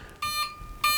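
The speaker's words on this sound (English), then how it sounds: "now you hear it start to beep. You'll hear a series of beeps here." The electronics of a DIY electric skateboard give off sharp electronic beeps after the battery is plugged in, two clear, close beeps about half a second apart in a short series.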